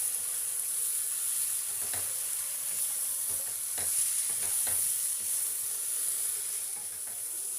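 Winter vegetables with spices fry in a pan with a constant sizzling hiss, while a spoon stirs through them in irregular scraping strokes, close and moderately loud.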